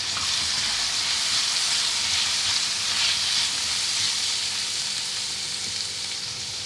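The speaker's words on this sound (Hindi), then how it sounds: "ये हम अपनी शिमला मिर्च डालेंगे।" Chopped capsicum hits a hot pan of softened Chinese onions for chicken Manchurian and sets off a loud, dense, steady sizzle and hiss that carries on unbroken and close, with no talking.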